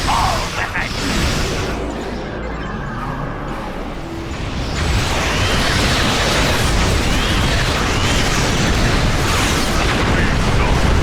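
Starship weapons fire and explosions in Star Trek Online, a dense roaring wash of blasts and booms that swells louder partway through and holds steady, with no clear separate shots.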